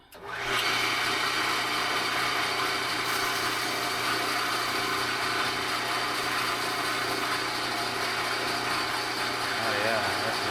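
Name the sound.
electric sharpening machine running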